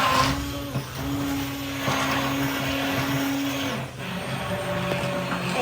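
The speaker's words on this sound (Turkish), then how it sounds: "biz blenderla yapıyoruz normalde" Electric blender running steadily while mixing chocolate banana cake batter at home, a continuous loud motor whine with a steady pitch that dips briefly near the middle and shifts slightly toward the end.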